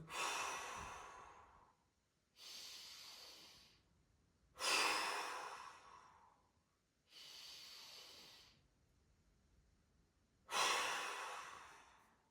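Slow, deep breaths during a guided mobility breathing exercise with hands on the rib cage, five long airy exhales about two seconds apart with quiet pauses between, close and clear.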